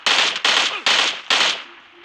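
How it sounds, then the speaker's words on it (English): Automatic gunfire in the video game PUBG, with four rapid, loud bursts in quick succession, each a dense crackling volley, before the sound fades to a faint tail. "You guys, somebody shot me."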